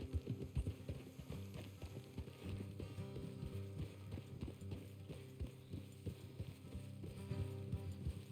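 Horse hooves clip-clop steadily along a road in Red Dead Redemption 2, with a quick rhythm of close, moderately loud hoofbeats and a mechanical rattle of tack underneath.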